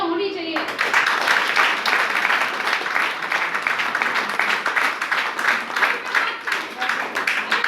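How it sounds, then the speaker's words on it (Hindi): Applause from an audience at a motivational talk or business meeting, a steady wash of many hands clapping that fills the clip after a brief voice at the start. "तालियां होनी चाहिए।"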